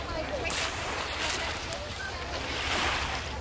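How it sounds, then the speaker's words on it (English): Ocean waves washing along the saltwater shore of Puget Sound, a steady broadband surf wash at moderate level with a constant wind rush. "This is the Puget Sound."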